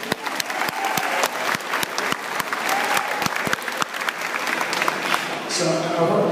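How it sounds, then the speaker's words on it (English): Audience applause fills a hall in Manila at a company appreciation event, dense steady clapping with sharp individual claps standing out throughout, loud and close, with some crowd murmur and a brief cheer near the end. "So give yourself a round of applause."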